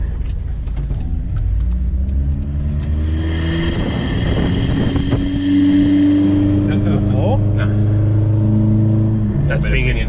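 A turbocharged Suzuki Vitara engine revs and accelerates close up inside the moving car, its droning harmonics rising steadily in pitch across the run, with a brief higher whine near the end.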